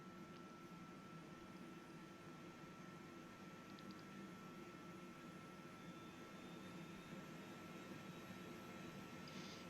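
A Eurocopter H145 helicopter's number two engine spooling up in Microsoft Flight Simulator, a steady, dense turbine roar with a constant whine held loud and unbroken throughout.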